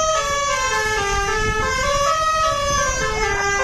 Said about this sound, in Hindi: फॉर सम रीजन अब हॉर्न ही बज रहा है